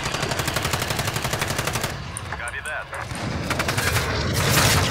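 Rapid machine-gun fire in a video game battle, sustained bursts of evenly spaced shots with a short lull midway, loud and continuous, with a voice talking underneath.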